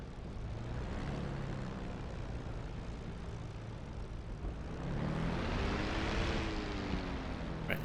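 The engine of a P-51D Mustang in the flight sim DCS World drones steadily while taxiing, a low propeller rumble that swells in pitch and loudness partway through with gentle throttle changes, close and continuous without speech.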